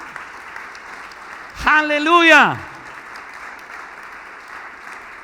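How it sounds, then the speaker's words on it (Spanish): Church congregation applauding steadily through the whole stretch, with a voice ringing out loud in an exclamation over the clapping partway through. "dele otro fuerte aplauso al Rey en esta noche"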